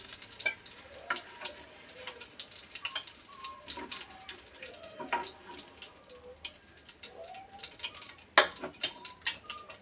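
Paneer fries quietly in a pan with a soft, low sizzle beneath scattered stirring clicks and knocks, including one sharper clatter near the end.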